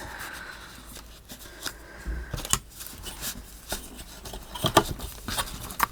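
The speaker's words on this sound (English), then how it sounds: "So this time you're going to need to cut this piece" Scissors cut paper for a Stamperia Blues mini album page, with a few sharp snips and rustles of paper handling scattered across a quiet background, and no talking.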